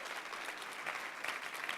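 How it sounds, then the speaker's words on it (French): A church congregation breaks into a soft, steady wash of applause, heard at a distance and fairly faint, with no pause across its length. "Je pense que ça mérite une main d'applaudissement."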